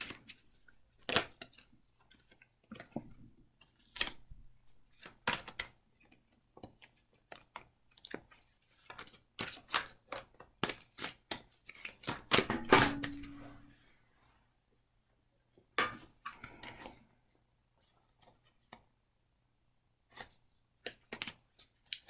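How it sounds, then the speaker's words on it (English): Tarot cards are shuffled in a quiet room, making a series of sharp crisp riffles and papery slaps in irregular bursts, with a longer flurry midway and pauses between. "I'm going to just do this here so you can see me shuffle"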